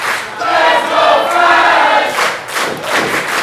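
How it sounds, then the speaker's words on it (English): A wrestling crowd at an independent show roars and cheers in loud, swelling waves, with a brief dip before the noise surges again. "Crowd getting behind Flash Carter here"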